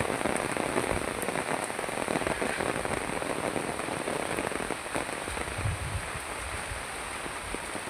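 Heavy rain drums steadily on an umbrella during a typhoon in a rural Philippine province, a dense continuous patter close by with no talking.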